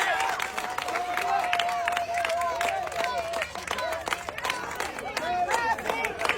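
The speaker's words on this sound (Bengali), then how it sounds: "দেখি সবাই চারজনের জন্য জোরে তালি হবে" A crowd claps and cheers for four contestants at an outdoor game event, scattered sharp claps building under a loud announcer's voice and general chatter.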